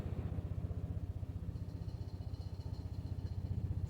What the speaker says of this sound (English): Got a helicopter flying over.